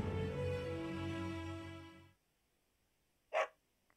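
A dog in Fire Emblem: Three Houses gives one short, sharp bark after a tonal musical passage cuts off into near silence, followed by a faint trailing blip.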